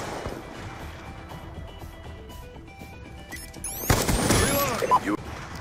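A video game gunshot from a rendered shooter sequence: a loud crack and burst arrives about two-thirds through, with trailing ringing and debris-like rattles, following quieter ambient game sound and faint rising chirps.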